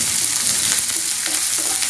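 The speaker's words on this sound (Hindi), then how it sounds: "प्याज को हम भून लेते हैं।" Sliced onions sizzle and fry in a hot pan with mustard seeds, cumin and curry leaves for sambar, with a steady hiss and soft scraping as they are stirred, close and continuous with no talk.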